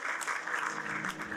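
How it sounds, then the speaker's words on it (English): An audience applauds steadily for a Kennedy-Lugar YES exchange program alumna at a Pakistan-US alumni reunion in Karachi, a dense, sustained clapping wash with no pauses throughout. "Round of applause for Priya"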